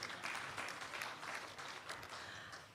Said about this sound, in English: Applaud him for that, please.